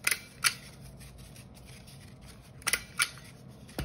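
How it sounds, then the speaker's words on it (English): Sharp paper-handling clicks and snaps as a stapler fastens paper rings into a paper chain for a first-grade Sukkot craft, with two pairs of quick separate crunches over quiet room tone. "And we're gonna staple that."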